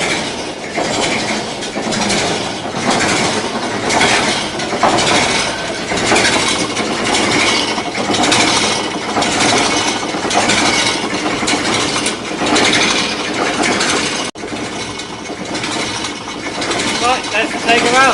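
A John Fowler road roller's engine runs close by with a steady mechanical chugging and clatter that continues throughout at a fairly loud level, with a brief dip partway through.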